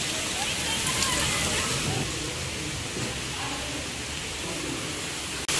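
Heavy downpour falls outside a house in Karachi after a sudden storm, a steady broadband hiss of rain on streets and surfaces that keeps up without a break for the whole stretch.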